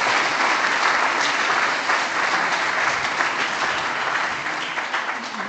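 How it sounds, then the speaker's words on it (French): Sustained applause from a conference audience after a speaker's presentation, a dense steady wash of clapping that carries on loud for several seconds and eases slightly toward the end. "on peut l'applaudir, effectivement"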